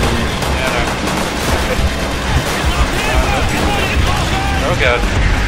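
Grenade blasts and gunfire from Call of Duty: World at War fill a dense, continuous battle din of rapid shots and booms, with players talking over the chaos.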